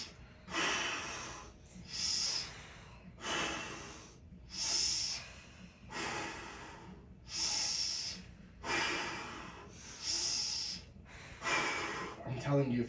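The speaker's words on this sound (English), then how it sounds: "Big exhale." Heavy, forceful breaths during an upper body weight workout come in a steady rhythm, about nine long hissing exhales spaced a second or so apart, close and loud.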